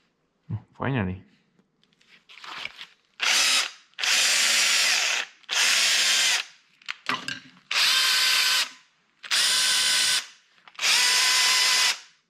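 A power tool motor, freshly fitted with new brushes, revs in repeated bursts of about a second each, loud and close, with brief speech near the start.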